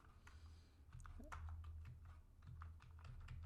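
Someone types a networking command on a computer keyboard, a quick run of light, close key clicks over a low background hum.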